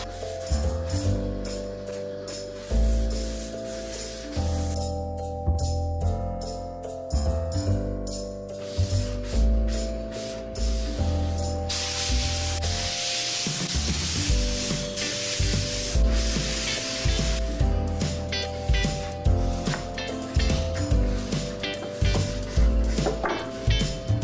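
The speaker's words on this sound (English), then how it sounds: "When you're using stain, you want to stir it pretty good, especially like scrape the bottom." Wood stain being stirred in a can, with the stick repeatedly rubbing and scraping against the bottom. The scraping comes in uneven strokes under a steady background of music.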